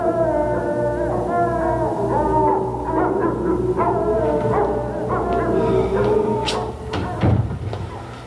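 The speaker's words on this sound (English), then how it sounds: "Like the wild dogs are howling." Several dogs howl and bark in a rising and falling chorus, loud and close, with a hollow echo and a few yips toward the end, set in a dark, brooding soap-opera drama.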